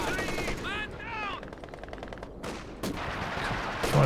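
Machine gun fire and other gunfire from a Company of Heroes 2 battle, with a KV-8, howitzer and airborne guards in play, rattling in dense overlapping bursts under a commentator's voice and busy game noise.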